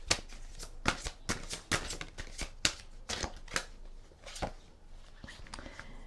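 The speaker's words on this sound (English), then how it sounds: "I'm going to be pulling one of these guidance cards right now" Guidance cards are shuffled by hand in quick, close riffling bursts, a series of crisp flicks that thin out toward the end, with no talking.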